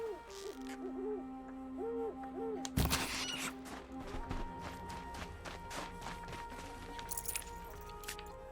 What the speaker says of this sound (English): I hear an owl.